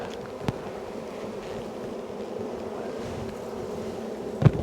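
Honey bees buzzing around the hive, a faint, steady low drone continuing throughout, with a couple of brief knocks breaking in.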